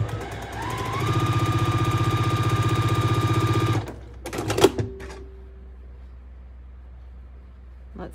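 Sewing machine stitching quilt fabric pieces at a quarter-inch seam, running in a steady loud mechanical whir for about four seconds before stopping, followed by a few handling clatters and quiet room tone.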